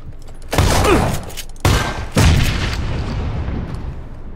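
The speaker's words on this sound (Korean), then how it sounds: "이번에 수류탄 던지면 달려갑니다." A grenade goes off in the battle-royale game PUBG: Battlegrounds, three heavy booming blasts in quick succession, each followed by a rumbling decay.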